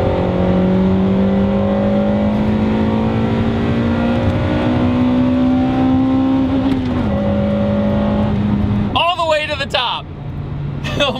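An Acura Integra Type R engine with factory exhaust revs high, its tone climbing steadily and then dropping at a shift, loud and close from inside the car, with someone talking over it near the end.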